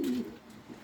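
A single pigeon gives a brief, soft coo during a squabble over a perch inside a pigeon loft, close by but faint, with no other sounds around it.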